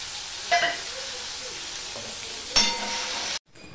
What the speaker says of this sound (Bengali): আমি 2 মিনিটের মতন টমেটো আদা দিয়ে আমি নেড়ে নিয়েছি, রান্না করে নিয়েছি